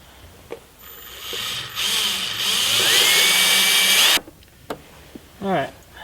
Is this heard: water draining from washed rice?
no